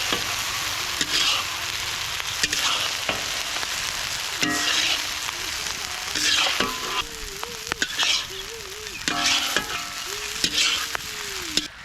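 Boiled rice is stirred and fried in a large street-food pot for vegetarian pilaf: a steady sizzle runs under repeated scraping, clattering stirs of a metal spoon, with occasional squeaky tonal scrapes against the pot.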